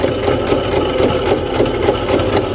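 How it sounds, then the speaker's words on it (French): A sewing machine runs steadily, stitching fabric along a traced line for a camper van seat cover. Its even, rapid mechanical whirr and needle patter continue close and unbroken. "je vais poser mon tissu comme ça et je vais coudre sur ma ligne que j'ai tracée"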